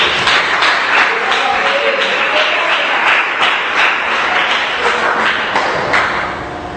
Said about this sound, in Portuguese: Pode bater as palmas.